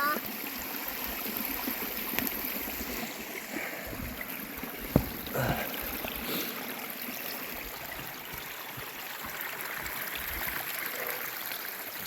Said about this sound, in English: Nice little creek.